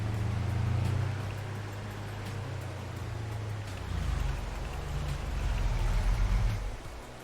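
Rain falls in Farming Simulator 22 as a farm vehicle mulches a field. A steady, soft hiss of rainfall sits over a low engine drone whose pitch shifts partway through. No one speaks.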